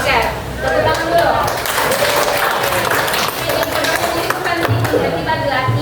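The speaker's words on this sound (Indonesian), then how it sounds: "Oke, tepuk tangan dulu" Classroom applause from a group of students during a personal and social career guidance lesson, steady mixed clapping lasting several seconds with voices and chatter running underneath.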